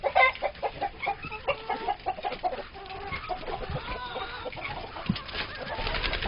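Chickens being let out of their coop cluck busily near the listener in a quick, pulsing stream, with an occasional faint crow in the background and a little talk behind them.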